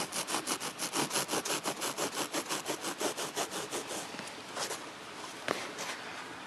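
A knife saws back and forth through the seat foam of a 2002 Miata MX5 SE, fast rhythmic rasping strokes close up, about twenty in a row, then slower irregular cuts.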